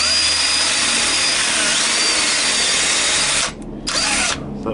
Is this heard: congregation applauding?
no